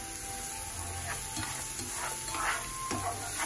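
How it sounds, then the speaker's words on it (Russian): Onion and leek sizzle steadily in a hot pan while a utensil stirs them in occasional scraping strokes, close and continuous. "буду обжаривать сначала лук и лук-порей"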